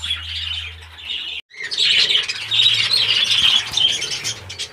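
Female parakeets are let into the males' aviary, and a flock fills the air with continuous busy chirping and squawking at close range. A low hum is heard at the start, then there is a brief gap before the chatter resumes strongly.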